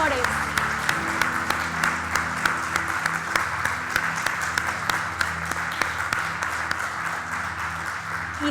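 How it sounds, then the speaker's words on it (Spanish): A church congregation claps loudly and continuously, with dense, sustained applause over a low musical backdrop. "Dale un fuerte aplauso al Rey de Reyes"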